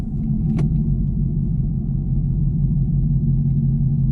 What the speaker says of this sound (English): you guys can get a feel how the car sound with the H-pipe on day-to-day driving